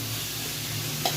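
Masala with turmeric frying in hot oil in a pan for jackfruit and prawn curry, a soft steady sizzle with light stirring and one brief scrape near the end.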